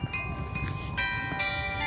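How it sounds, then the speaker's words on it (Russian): Clock bells chime a melody, with clear ringing tones striking and sustaining one after another at moderate loudness. "Там выходят, звонят колокола."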